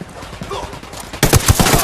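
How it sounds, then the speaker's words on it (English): Close gunfire bursts from a firefight in the video game Ghost Recon Wildlands, starting partway through with loud, rapid shots. "I'm shooting these fuckers."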